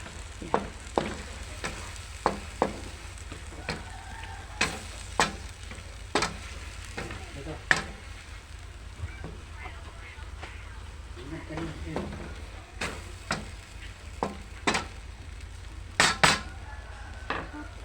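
Shrimp sautéing with mixed vegetables in a pan, giving a steady sizzle under sharp scrapes and clacks of a utensil stirring at irregular intervals throughout.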